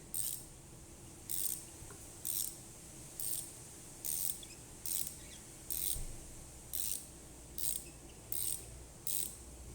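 A ratchet wrench turns a spark plug on a Ford Fiesta ST180, giving about ten evenly spaced bursts of rapid clicking at steady intervals. The ratcheting is close and moderately loud over a low background hum.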